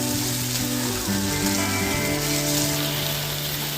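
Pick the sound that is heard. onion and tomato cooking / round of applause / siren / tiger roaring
onion and tomato cooking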